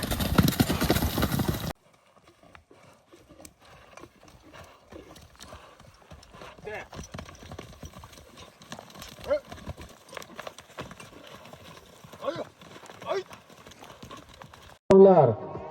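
Hooves clop irregularly on hard ground as stallions walk, mid-distance, with people talking over them and a loud burst of noise at the start and end.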